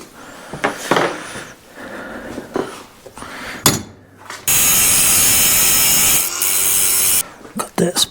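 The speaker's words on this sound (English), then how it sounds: "Cut that spot weld off." Cutting through a spot weld on a 1965 steering part: a short burst of rough grinding or sawing, then a loud steady cutting whine lasting a few seconds, with scraping and clunks before and after.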